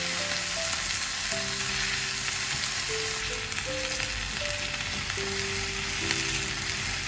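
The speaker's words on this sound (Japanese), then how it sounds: "ごま油を熱して、小松菜を炒めるよ。" Komatsuna greens stir-fry in hot sesame oil with a loud, steady sizzle that stays close and even throughout, with a few faint tonal notes drifting underneath.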